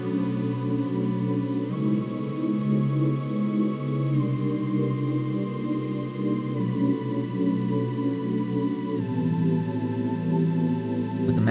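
Dreamlike synth theme music for a self-made first-person horror-style video game, with layered sustained chords that shift slowly every few seconds, steady and moderately loud, with no voices.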